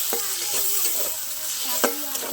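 Cumin-coriander paste and chilli paste fry in a pan under a soft, even sizzle, with a spatula scraping and stirring in short strokes, close by.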